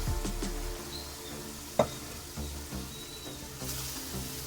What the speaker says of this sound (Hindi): अब इसके अंदर मैं ये सारा डाल दूंगी लोबिया।